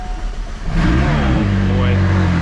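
McLaren 600LT sports car engine cranking and firing up, then blipping into a loud rising rev that settles into a strong, rumbling idle, close up, with a brief voice over the start.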